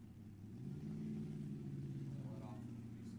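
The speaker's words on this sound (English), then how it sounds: "Bobby Ray's car went from like kind of loud to way loud there" A loud car engine fitted with a ProCharger supercharger holds a steady, heavy low drone that swells slightly and then sustains at close range, with a faint voice underneath.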